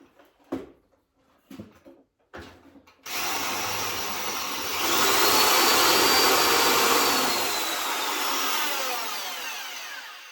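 A few knocks and clunks precede a power drill with a poor bit biting into material, a loud continuous whine that rises in pitch and intensity midway, then eases off slightly.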